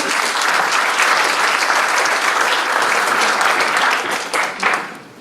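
Loud, dense applause fills the room from a forum audience, sustained for several seconds before tapering off at the end.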